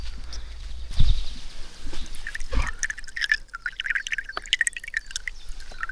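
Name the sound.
water dripping through a camping water filter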